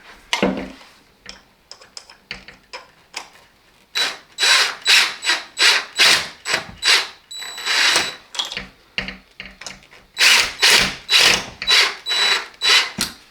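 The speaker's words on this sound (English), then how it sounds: "And then we'll use the electric driver." Electric screwdriver driving screws into window blind brackets, with a close series of short, loud whirring bursts in a quick rhythm, preceded by a few softer clicks and taps.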